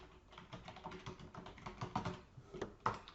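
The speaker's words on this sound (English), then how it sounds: "I'm just going to simply type in earnings yield." Close, irregular clatter of keystrokes on a computer keyboard as a short phrase is typed into a spreadsheet, with quick bursts, brief pauses and a sharper final tap.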